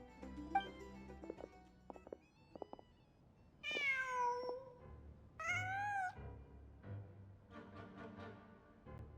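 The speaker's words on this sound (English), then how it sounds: "Huh. Just a cat." A cat in the Genshin Impact game world meows several times, a few short chirps followed by longer drawn-out meows, clear and close with quiet background between calls.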